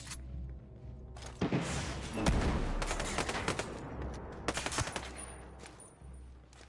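Gunfire in the Ghost Recon Breakpoint video game, several sharp bursts and rapid volleys with thumping impacts spread over a few seconds, fairly faint overall.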